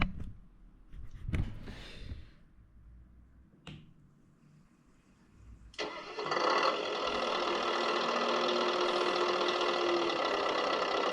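A couple of sharp clicks and a brief whir, then the small engine of a Tamiya Scania 770S V8 8x4/4 model truck sputters to life and settles into a steady, loud, buzzing idle.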